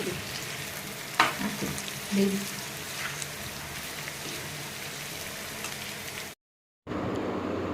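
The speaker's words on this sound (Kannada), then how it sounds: "1 10 ನಿಮಿಷ ತರಕಾರಿಗಳನ್ನೆಲ್ಲ ಚೆನ್ನಾಗಿ ಬೇಯಿಸ್ಕೊಳ್ಳೋಣ" Vegetables for a vegetable chitranna, salted and cooking in a pan, crackle in a steady close sizzle with a few scrapes and clinks. The sound cuts out briefly before it resumes, and no one speaks.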